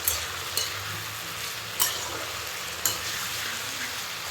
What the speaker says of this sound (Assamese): এতিয়া ঢাকনি মাৰি ধুনীয়াকৈ কম জুইত ভাজি থাকিম